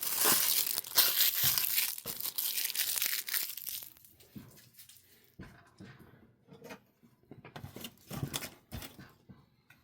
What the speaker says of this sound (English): I don't have patience to try unwrapping that, so I'm just going to rip it open.